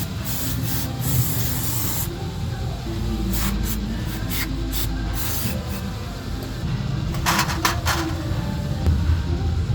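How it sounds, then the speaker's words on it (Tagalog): Dirty screws from a Mitsubishi Adventure timing belt job being scrubbed with a wire brush: close, continuous raspy scratching in uneven strokes with sharper bristly bursts, no talk. "Mga tornilyo mga boss, ini-steel brass natin yan. I-steel brass natin para lumabas yung tunay na kulay."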